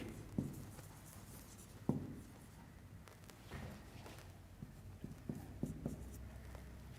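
Pen writing on paper during an English grammar lesson at home, scratching softly and intermittently with a few sharper taps, faint and close with no voices.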